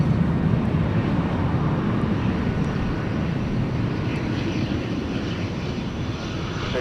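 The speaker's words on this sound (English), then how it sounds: "our first A380 of the day coming in from Munich" A Lufthansa Airbus A380 from Munich lands at LAX, a loud sustained jet roar that stays steady and close for several seconds with no voices.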